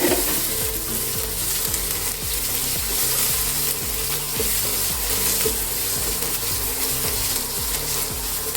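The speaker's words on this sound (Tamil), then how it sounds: "இந்த வெங்காயமும் நல்லா வதங்கணும்" Onions with garlic and green chillies frying in oil for a spinach kootu, a steady loud sizzle with rhythmic stirring scrapes throughout and no talk.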